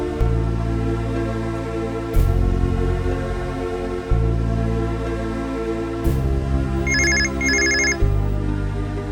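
A phone rings back on an outgoing call, heard as a repeating electronic ringtone over steady sustained music, with two short high trill bursts near the end and no speech.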